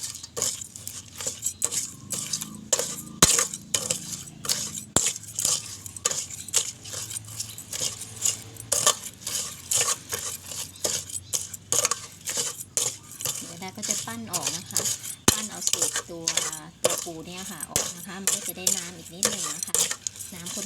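Stirring a rice-paddy crab laab mixture with toasted rice powder and chili flakes in a metal pot, a utensil scraping and clinking rapidly against the pot in a busy, continuous rhythm.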